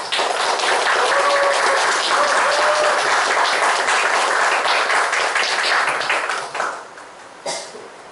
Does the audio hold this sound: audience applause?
yes